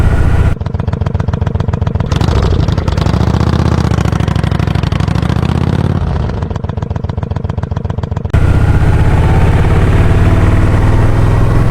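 A motorcycle engine idles loud and close on a hot Florida morning before a ride, a steady throbbing rumble whose pulsing beat shifts a few times and then settles into a smoother drone.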